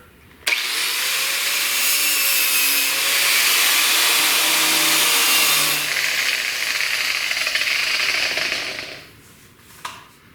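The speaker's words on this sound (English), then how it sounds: "I'm just now going to have to remove this sealant, caulking sealant, so we can weld without things catching on fire." Abrasive scraping or grinding as caulking sealant is removed from a car's intercooler mount area before welding, a loud, steady, close harsh rasp lasting several seconds before tapering off with a final clatter.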